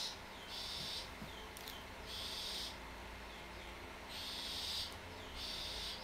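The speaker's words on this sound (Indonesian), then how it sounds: "itu dia burung itu tuh yang lumayan berisik itu tuh burung" A noisy bird calls outdoors in repeated, evenly spaced shrill pulses over steady background hiss, moderately faint and with no voices.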